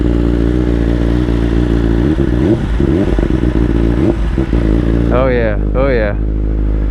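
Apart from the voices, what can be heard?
BMW S1000RR motorcycle with titanium header exhaust revving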